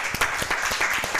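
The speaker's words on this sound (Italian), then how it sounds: "Un applauso" An audience at an Italian television broadcast breaks into applause, a dense, steady wash of clapping heard alone over a brief stretch.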